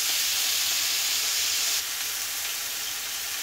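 Beef steak sizzling and frying on a disc griddle, a steady loud hiss of searing meat juices with a slight drop in intensity partway through, no voices.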